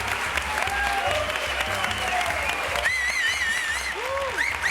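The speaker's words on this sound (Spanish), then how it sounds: "Otro aplauso para un habitual nuestro, el preparador físico del Rayo Vallecano," Studio audience applauding a guest on a Spanish TV comedy panel show, dense continuous clapping throughout with whistles cutting in near the end.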